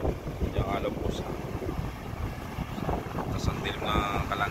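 Strong super typhoon wind roars steadily across the microphone over a continuous rush of rough sea, with a voice talking intermittently underneath.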